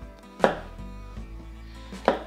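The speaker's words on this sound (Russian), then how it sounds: "Грибочки я буду нарезать на слайсы." A kitchen knife slices fresh mushrooms on a cutting board for an Italian frittata, with two distinct, sharp chopping thuds spaced well apart against quiet room tone.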